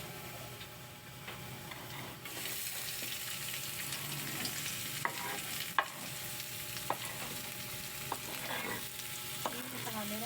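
Sardines frying with garlic and onion in a pan, a steady sizzle with scattered ticks and clinks of a utensil stirring, close and continuous.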